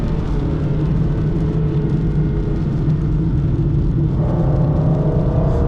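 An Aston Martin DB9 on a Grand Prix circuit under power: a steady engine drone with a low rumble and road roar, constant and loud from inside the car, shifting slightly in tone near the end.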